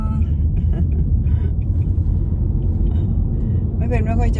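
Car driving into a roundabout, a steady low interior road rumble throughout, with a brief voice near the end.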